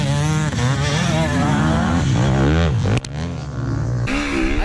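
A 4-stroke dirt bike engine held at full throttle during an amateur race on cold, dusty ground, loud and close with a steady rising and falling rev pitch and a brief dip near the three-second mark.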